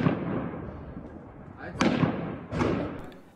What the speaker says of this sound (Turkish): başkent Hartum'da silah sesleri yeniden duyuldu